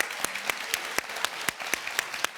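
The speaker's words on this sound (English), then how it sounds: "I gotta clap for that." Studio audience clapping on a talk show, heard as sharp, fairly regular claps about twice per second, close and moderately loud, with a low voice briefly underneath.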